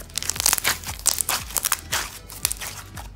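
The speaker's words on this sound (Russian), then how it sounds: "Он довольно-таки хорошо хрустит." Slime being stretched by hand gives off a steady run of close, crisp crunching and crackling pops, repeated in quick irregular bursts with no talking.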